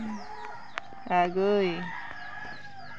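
Chickens cluck and cackle close by in a rural yard, with one loud drawn-out call breaking out in the middle. A person speaks briefly under the birds.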